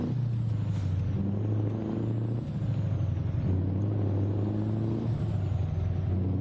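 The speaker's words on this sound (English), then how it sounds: "This truck sounds beastly," A heavy truck engine in American Truck Simulator drones steadily at a low pitch with a harsh, gravelly rumble, loud and close throughout, with a brief dip partway through.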